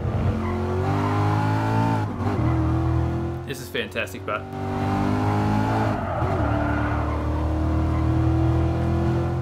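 Race car engine revving and shifting through gears in the video game GT Sport, loud and close with rising whines, a brief drop and tire noise in the middle, and someone talking over it.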